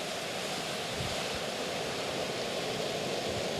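Water is poured into tomato sauce made with concentrated tomato juice in a pan, in a restaurant kitchen, with a continuous soft rushing splash that runs the whole time at an even level.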